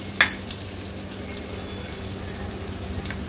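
Onions fry in a pan over a medium gas flame, giving a soft, steady sizzle close by after a brief clink at the start, with no talking.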